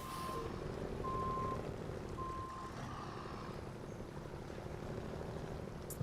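Kenworth truck grinding over rocks in SnowRunner, a steady low engine drone with rumbling texture, broken by a few reversing-style beeps early on.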